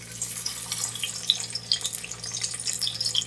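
Sliced onions go into a cup of hot oil in a cooking pot for a Chinyoti beef or mutton kunna, giving a steady, close sizzle with bright crackles and pops and no voices.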